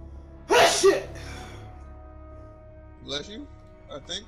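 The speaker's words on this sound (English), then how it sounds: "Either that or you sneezed" A loud, sudden sneeze bursts out close by, followed a moment later by people talking.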